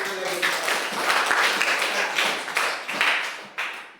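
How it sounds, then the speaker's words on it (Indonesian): An audience claps together in a room, a dense burst of hand claps that swells and fades in uneven waves over a few seconds, close and fairly loud. "Tepuk tangan lagi."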